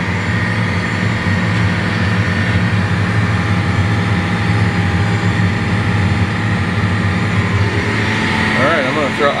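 A tractor pulling a strip-till bar under heavy load gives a loud, steady low engine drone with a constant rumble through the whole stretch, no pauses.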